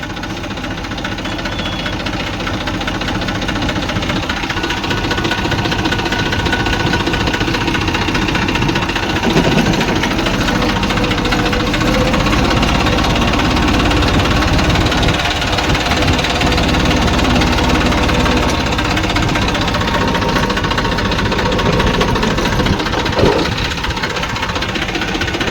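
A tractor engine runs at a steady, close, rumbling drone with a rhythmic knocking chug that continues unbroken throughout, in a village setting, with no talking.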